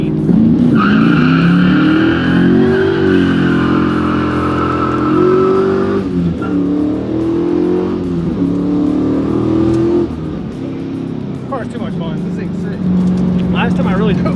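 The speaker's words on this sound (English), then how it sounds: "mash the gas, hit that, it's a line lock. It'll lock the front tires, and this car turns into a fucking burnout machine." Nitrous-fed 650 hp Trans Am WS6 doing a line-lock burnout with the front tires locked, its engine roaring loud and close while the rear tires squeal continuously, with voices talking over the noise.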